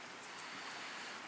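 Rain falls outside during a rain delay at the Pine Creek golf course, a steady, soft, broadband wash of noise with no voices.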